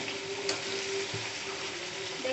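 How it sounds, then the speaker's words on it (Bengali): Chicken curry, already mostly browned and dusted with garam masala powder, sizzles steadily in the pan while being stirred. A continuous close frying hiss runs throughout, with brief scraping stir sounds and no talk. "একটু নাড়াচাড়া করে দিলাম।"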